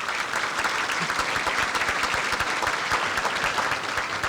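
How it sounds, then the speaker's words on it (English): Audience at a regional chamber of commerce business awards event giving sustained applause, a dense, even roll of many hands clapping at steady loudness from start to finish. "One final round of applause for their hard work."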